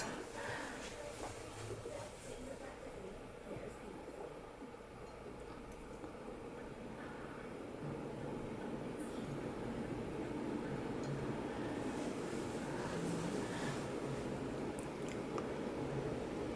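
A ceiling fan with a freshly oiled motor runs steadily with a soft, even whooshing hum and faint ticks, with no rattling.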